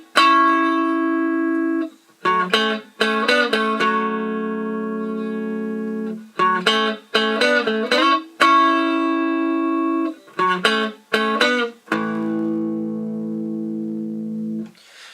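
Electric guitar rhythm lick, played alone at a slightly slowed tempo: clipped, distorted chord stabs and sustained ringing chords in short choppy bursts, close and loud.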